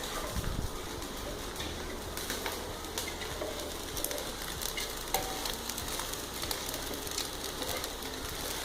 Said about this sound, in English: in between we have to stir the rice